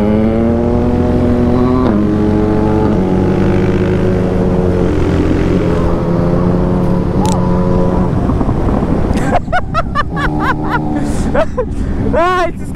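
A 160 motorcycle built up to 205cc riding at top speed, with a loud sustained engine drone whose pitch shifts through gears, heavy wind buffeting and a voice speaking over it.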